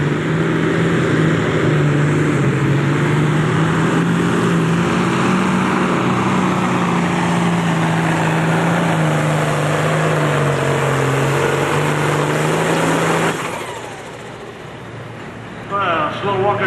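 A powerful pulling tractor engine roars and labors continuously at close range during a 10,000-pound pro stock tractor pull, pitch wavering, then drops off abruptly near the end as a voice is heard over it.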